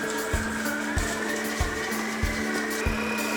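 Butter and brown sugar being creamed at medium speed by an electric mixer, giving a steady mechanical whir with soft, regular knocks about every two-thirds of a second, close and continuous.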